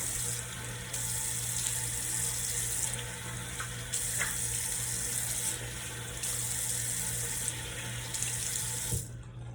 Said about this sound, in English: So I'm going to rinse it off a little bit.